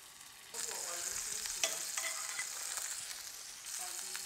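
Oil and a spoonful of Blue Band margarine heat in a pan for a fried fish fillet dish, giving a steady close sizzle that jumps louder after the first half second and crackles on alone with small pops.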